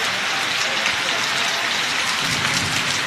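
A downpour in Bihar during an April storm, a constant loud hiss of rain striking the ground and roofs nearby, with a faint low rumble beneath and no clear speech.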